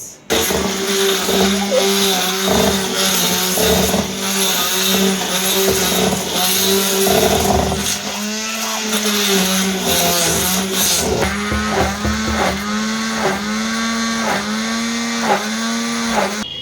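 A kitchen mixer blending pink Mohabbat wala sharbat gives a loud, steady motor whir that runs nearly unbroken throughout, with pitch shifts as the load changes partway through.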